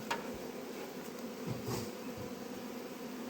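Bees buzz steadily around an eight-frame hive during acacia honey extraction, a dense continuous drone with occasional closer passes, no speech.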